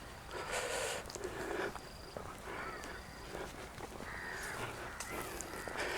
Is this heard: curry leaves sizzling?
no